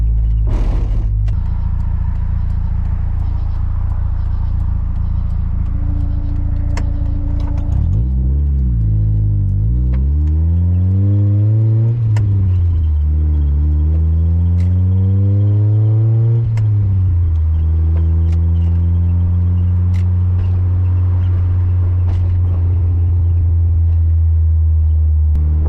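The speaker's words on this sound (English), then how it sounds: "A second gear pull right here." A Mazda MX-5 Miata NA8 pulls hard in second gear at night, its engine note rising steeply through repeated surges and drops as revs climb and fall, a loud in-car drone that settles into a steady cruise.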